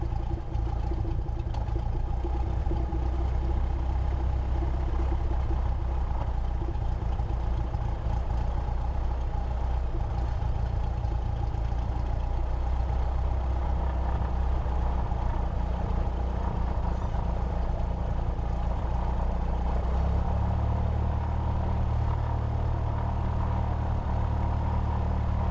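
A small training aircraft's engine idles while taxiing, a steady droning hum with a low throb that shifts slightly in pitch near the end, with no voices.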